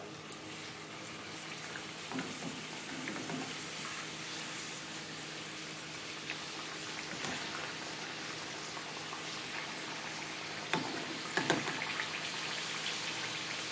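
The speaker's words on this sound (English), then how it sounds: "So we're going to put them 1 by 1 into our hot oil" Egg rolls fry in hot oil with a soft, continuous bubbling sizzle, fairly faint and steady, with a few louder crackles and pops near the end.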